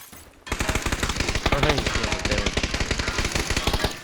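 Sustained automatic fire from an M4 rifle in PUBG: a rapid, steady stream of loud close shots that starts abruptly after a brief quiet moment and runs without a break.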